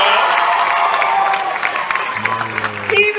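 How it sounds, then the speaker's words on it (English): An audience at a children's wilderness show claps and cheers. A short burst of loud applause with whoops and a voice speaking over it fades slightly toward the end. "about a big round of applause for Matilda?"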